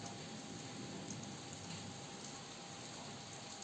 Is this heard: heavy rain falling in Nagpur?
yes